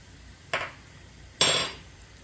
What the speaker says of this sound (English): Now I'm washing my blender and my cup that I used for the